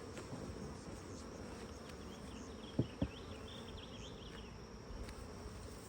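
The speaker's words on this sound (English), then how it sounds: "There's a lot of bees in there doing bee things." Honeybees swarm and hum inside an open hive during an inspection, a soft, steady drone with faint insect buzzing close by and two brief knocks near the middle.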